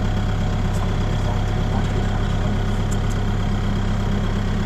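A motorcycle engine runs at a steady idle close by after a tire blowout, a continuous low drone with some splashing noise around it.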